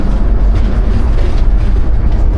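Business class bullet train running between Madinah and Jeddah, a steady loud low rumble with broadband rolling noise filling the cabin, continuous and close with no speech.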